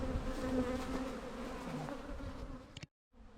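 Honeybees from newly installed backyard hives swarm and buzz steadily around the yard, a dense continuous drone close by that cuts off abruptly near the end.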